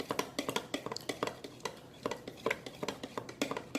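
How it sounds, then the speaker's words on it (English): Flour being stirred into pork tenderloin sauce from a crock pot, a series of close, quiet utensil scrapes and taps against the pot in an uneven rhythm, alone without talk. "I added the flour to the sauce, and I'm going to go ahead and thoroughly mix it through"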